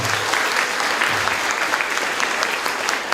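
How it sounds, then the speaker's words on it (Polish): Loud, steady applause from a crowd at a concert in a royal castle hall, dense clapping that carries on evenly throughout. "Bardzo gromkie brawa!"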